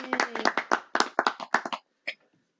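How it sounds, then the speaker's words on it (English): Two podcast hosts clap together in a quick burst of close, sharp hand claps lasting under two seconds, followed by a single short clap and a brief vocal cheer. "Let's clap it up for the Balcony Life Podcast."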